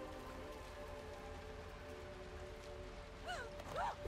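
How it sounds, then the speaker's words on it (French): Soft, steady rainfall in the stealth video game Hitman 3, a quiet continuous patter under a faint ambient hum. Brief whistle-like tones rise near the end. "La pluie tombe quand même là où il y a le parapluie."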